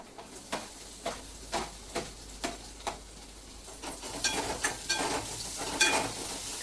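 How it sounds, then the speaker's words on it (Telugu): Bitter gourd frying in a pan, opening with a regular series of light ticking taps at about one per second, then building into a denser, louder sizzle with stirring noises, close and without talk. "ఇప్పుడు మనం కాకరకాయ వేసుకుందాం."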